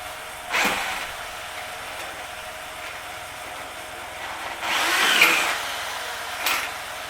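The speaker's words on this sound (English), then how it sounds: "See if I can drill these from the back side." A power drill drilling out rivets whirs in a couple of short bursts, the longer one grinding into metal, with quiet pauses between.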